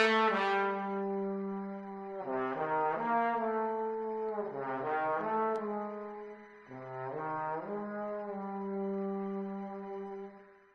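Sample Modeling virtual trombone section plays sustained brassy chords that swell and shift between notes in a slow phrase, moderately soft and smooth, with no talking over it.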